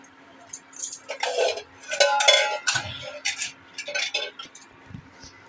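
A metal pressure cooker lid clatters and clinks against the pot while cooking mutton kosha in a home kitchen, several sharp metallic knocks and scrapes in quick bursts, close and fairly loud, no talking.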